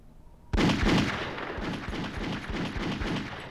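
Gunfire in the video game Duke Nukem: Zero Hour bursts in abruptly after a quiet start, then keeps going as loud, rapid repeated shots with booming low impacts, continuous to the end.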